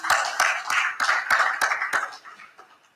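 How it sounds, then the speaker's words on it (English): Audience applause for Elizabeth at a housing finance event, a short burst of roughly seven or eight sharp claps close together that thin out and fade toward the end. "Let's give her a round of applause."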